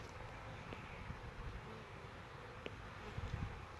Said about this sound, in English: There's still bees flying around because they're coming back and from out scouting